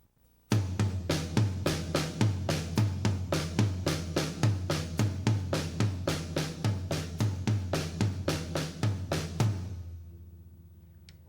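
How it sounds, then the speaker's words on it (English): Drummer running paradiddle combinations across different drums, a fast continuous stream of sharp stick hits with shifting tom pitches, close and loud for about nine seconds before ringing out. "I'll demonstrate that on the different drums so you can hear the difference in the sound."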